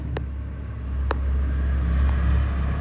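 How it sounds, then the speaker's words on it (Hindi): Steady road traffic rumbles from a busy market street next to an indoor classroom, a continuous low drone of passing cars and buses with a couple of brief clicks and no voices. "यहाँ पे ज़रा सा मार्केट के बगल में है, इसीलिए गाड़ी की आवाज़ आ रही है"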